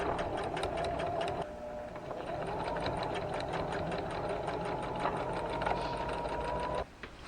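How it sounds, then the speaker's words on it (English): A sewing machine stitches on quilt pieces, a rapid, even mechanical whir and clatter running nearly continuously at close range before stopping abruptly near the end. "I'm going to sew them on."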